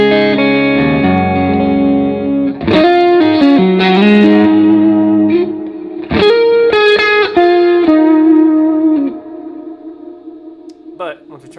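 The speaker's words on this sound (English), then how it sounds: "So this sounds like a lot of delay and reverb." Electric guitar played through a Line 6 Helix modelling a Vox-style Essex A15 amp with delay and reverb, sustained chords and single notes ringing out with long echoing tails that fade away at the end.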